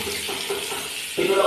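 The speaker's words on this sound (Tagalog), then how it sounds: "Kita nyo naman kung gano'n kalakas ang tubig." Shower water runs strongly in a steady hiss and splash, close by, and gets louder near the end as a voice talks over it.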